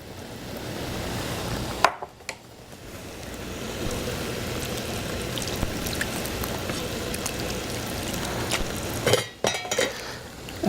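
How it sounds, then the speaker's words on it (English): Tomato and water pour and slosh steadily into a pan of sauce, with a few clinks of utensils against metal and no voices. "I'm going to add the tomato to it, and about as much volume in water"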